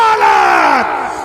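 A large crowd at a Muslim preacher's fiery speech roars the Takbir response in unison, a loud, sustained shout of many voices that slides downward in pitch and fades over about a second.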